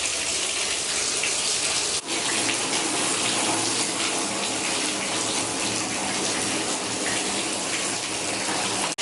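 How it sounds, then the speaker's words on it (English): A bathtub fills from a running tap in a steady, loud, close gushing roar that never lets up, broken only by a brief dip near the start. "The bath is still filling up."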